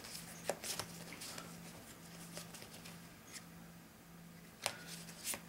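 Dungeon Raiders boss monster cards being shuffled by hand at a table, faint papery riffles and taps recurring against a steady low hum, with no talk.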